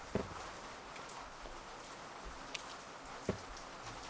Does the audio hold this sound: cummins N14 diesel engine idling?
no